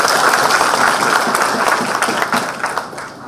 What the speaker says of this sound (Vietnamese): xin tất cả dành một tràng pháo tay lớn cho cái video clip vừa rồi